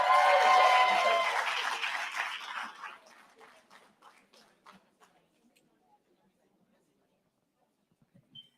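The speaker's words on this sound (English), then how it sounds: "If y'all could please give a huge round of applause for our New York Public Advocate, Jumaane Wi" Crowd applause at a community swearing-in ceremony opens loud, with cheers mixed in, then thins to scattered claps and fades to near silence.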